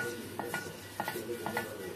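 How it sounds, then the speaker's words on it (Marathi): Steady frying hiss of onion sautéing in a little oil on a dosa griddle, with a few light scraping strokes as it is stirred, close and continuous. "जरासं तेल ॲड करायचं तव्यावर आणि कांदा घेऊन छानपैकी जरा थोडा परतून घ्या"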